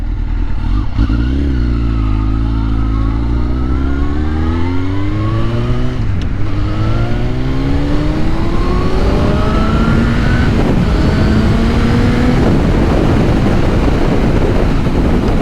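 A Suzuki GSXR1000 sport motorcycle accelerating hard at high speed, its engine note climbing steadily through several gear changes, loud and close, with constant wind roar over the microphone.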